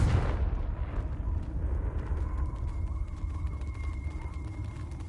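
A Confringo blasting spell detonates in Hogwarts Legacy, a loud initial burst followed by a long rumbling decay with a faint lingering tone, no voices over it.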